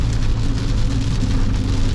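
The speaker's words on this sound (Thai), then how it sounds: "ก็ได้แปลสภาพมาเป็นฝนเป็นที่เรียบร้อยนะครับ ก็ ฝนตกแดดออกนะครับ" Steady, loud rain pours down during a sun shower on a road trip from Hat Yai airport to Pak Bara in Satun, a dense continuous hiss with low rumble close by and no voices.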